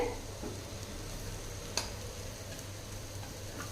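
Cooked seeraga samba rice goes into frying soya chunks for fried rice, giving a faint, quiet sizzle with soft stirring scrapes and one small click.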